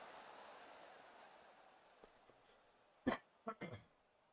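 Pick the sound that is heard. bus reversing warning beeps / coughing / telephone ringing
coughing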